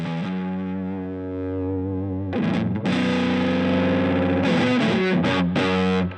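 Electric guitar through an Earthquaker Devices Hoof Reaper fuzz pedal, a sustained chord giving way to choppy, gnarly strummed bursts.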